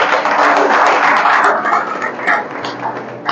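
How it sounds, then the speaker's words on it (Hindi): An indoor audience at a business training session applauds, producing dense, loud clapping that gradually thins and fades toward the end. "उनके लिए तालियां होनी चाहिए।"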